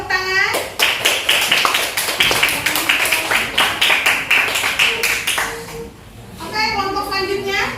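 A classroom of students claps in a lively, rhythmic burst, hands beating close and fairly loud for several seconds before fading, followed by a speaking voice.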